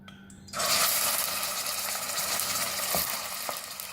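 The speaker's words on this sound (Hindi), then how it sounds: "इसी ऑयल में हम मटन शामिल करेंगे" About 500 grams of mutton goes into hot oil with browned onions, setting off a sudden loud sizzle that keeps up steadily, with occasional scraping clicks from stirring.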